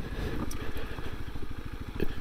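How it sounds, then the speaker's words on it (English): A 2021 Kawasaki KLX300s single-cylinder dirt bike engine-brakes downhill on a trail, a close, rapid, pulsing exhaust burble that stays fairly even and has no speech over it. "This bike also has quite a bit of engine braking. Like when I'm going down the hill here"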